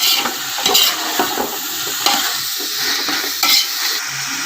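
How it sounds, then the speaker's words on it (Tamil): Coriander and mint stirred into frying biryani masala for a mushroom biryani, a close, continuous sizzle broken by scraping strokes of a spoon against the pan at an uneven rhythm, with no talking. "நல்லா கலந்து ஒரு 5 மினிட்ஸ் நல்லா கலந்து விட்டுடணும்"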